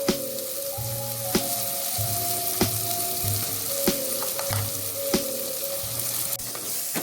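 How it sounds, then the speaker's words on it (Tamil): Ground masala paste fries with softened tomatoes in a pan for mutton biryani, giving a steady close sizzle broken by regular sharp scrapes and taps of a spoon stirring the mixture. "பச்சை வாசனை போற வரையும் நல்லா வதக்கி விட்டுக்கலாம்."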